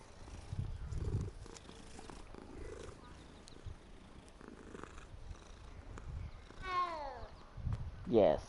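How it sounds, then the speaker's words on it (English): A cat purrs in the Hogwarts Legacy video game, a low continuous rumble heard close by with someone talking over it, followed by a few short meows near the end. "Yes, purr for me."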